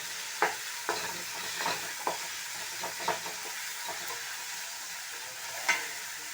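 Long beans with onion and tomato stir-fry in a pan, a soft steady sizzle broken by a few sharp spatula knocks, close and fairly quiet, no talk.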